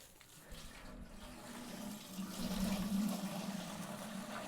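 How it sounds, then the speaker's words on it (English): Hose water gushes steadily into a homebrew brew kettle, a continuous rushing splash that swells in loudness partway through as the vessel fills, heard alone without talk. "we're actually going to fill this with hose water"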